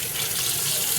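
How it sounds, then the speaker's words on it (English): Tap water runs steadily into a sink while hands are washed, a loud, continuous broadband hiss with no voices. "Let me wash off my hands."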